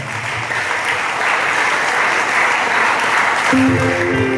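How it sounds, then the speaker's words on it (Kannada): Loud, dense applause from a crowd at a youth retreat centre, honoring the volunteers, sustained throughout with a few voices rising near the end. "ಒಂದು ಜೋರಾದ ಕೈ ಚಪ್ಪಾಳೆ"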